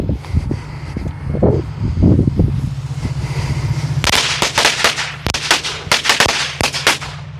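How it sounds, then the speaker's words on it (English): Thunder Dragons firecrackers from Wild Dragon Fireworks going off outdoors: a string of sharp cracking bangs, some close together, popping over wind noise and a low hum. "These are the Thunder Dragons by Wild Dragon Fireworks."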